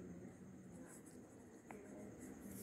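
Pencil writing on paper in a classroom, faint soft scratching strokes against quiet room hiss, with one brief sharper scrape near the middle.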